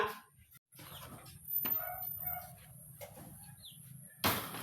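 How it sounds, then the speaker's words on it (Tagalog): Faint clucking of chickens in a quiet outdoor setting, with scattered soft calls, a brief rustle and a sharper noise near the end. "Pakainin mo yung yung mga ano, mga manok at bibi sa labas."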